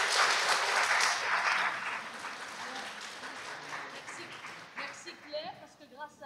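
A conference audience applauds, the clapping strongest at the start and fading gradually, after which a voice begins speaking faintly over the last scattered claps.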